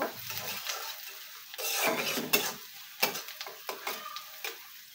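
Chopped onions frying in a pan on a home stove, with sizzling under sharp clinks and scrapes of a spoon stirring against the metal, loud and close with no voices.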